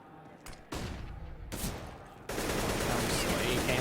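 AK rifle fire in a Counter-Strike tournament match: sharp, close single shots and short bursts that build into sustained, dense automatic fire, with no talking.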